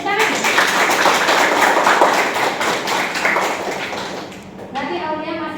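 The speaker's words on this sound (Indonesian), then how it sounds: "Tepuk tangan." A group of people clapping hands in a classroom-style session, a dense burst of claps that thins out and fades after a few seconds, followed by talk.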